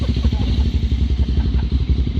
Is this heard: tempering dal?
no